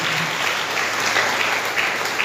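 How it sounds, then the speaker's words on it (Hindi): A church congregation claps together to glorify God during a worship service, a steady dense patter of many hands filling the room without pause. "ताली बजा"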